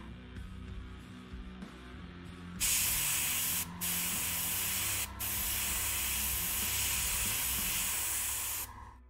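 Paint spray gun spraying paint over a speckled area, a loud steady hiss that starts a few seconds in, breaks off briefly twice, then runs continuously before stopping, with a faint low hum underneath.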